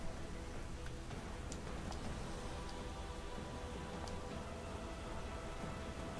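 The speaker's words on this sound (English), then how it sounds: "Oh, rain." Steady rain hisses in a fantasy strategy video game, Unicorn Overlord, a soft, even wash of noise with faint scattered drop ticks, quiet and unbroken, no talking.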